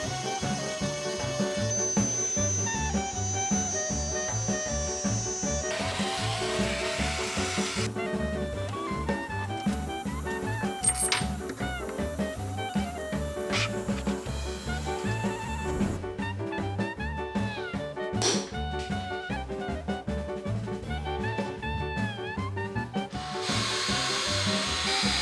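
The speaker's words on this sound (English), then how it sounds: "I started with machining the two upper discs and the gantry barely was able to pass the workpiece" A CNC gantry router machines discs for a stepper motor clock, giving a steady, loud mechanical whine with shifting tones and cutting noise that runs continuously throughout, with no talking.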